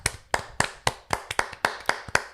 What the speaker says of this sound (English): Can we just clap it up for that,